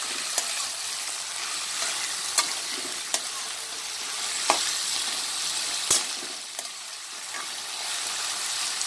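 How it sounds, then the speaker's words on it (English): Potatoes fry steadily in hot oil with a constant broadband sizzle, while a spoon scrapes and stirs at irregular intervals, leaving sharp clicks against the pan over nearly nine seconds with no talking. "Constantly we'll keep on stirring it."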